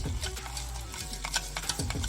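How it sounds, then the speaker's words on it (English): Spoon stirring sugar as it slowly caramelizes in a pan over low heat, a continuous close scraping and swishing with soft sizzle, with a few louder scrapes near the end. "Just keep stirring, otherwise it's gonna burn the sugar."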